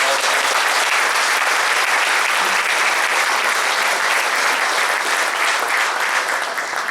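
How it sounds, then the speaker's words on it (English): Hearty applause from a breakfast audience honoring the meal staff at a Cesar Chavez awards event, loud, dense and steady clapping from many people throughout, tapering slightly at the very end. "let's just give them a big round of applause"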